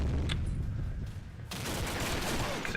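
Rapid automatic fire from an AUG A1 Black rifle in a video game match on an oil rig map, dense sustained bursts of loud shots with a short lull and then heavier continuous firing.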